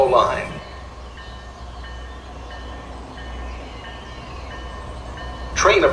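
A Roblox MBTA F40PH-3C commuter train rolls through Sharon Station with a steady low rumble and faint tonal whine that continue throughout. Short bursts of a nearby voice come in at the very start and the very end.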